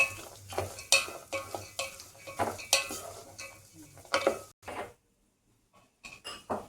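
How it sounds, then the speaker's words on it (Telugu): Grated carrot for halwa frying in a pan as a spoon stirs and scrapes it in quick, loud bursts, with a low sizzle underneath; the stirring pauses briefly before resuming. "ఆ తర్వాత తురుము క్యారెట్ తురుము వేసుకుని వేపుకోవాలి"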